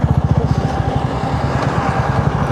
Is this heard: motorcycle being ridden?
yes